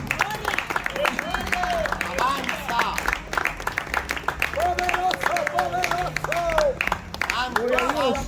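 Church congregation applauding during a sermon, steady clapping mixed with voices and cheering, people talking and calling out over it throughout.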